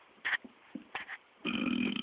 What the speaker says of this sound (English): oh, I gotta burp now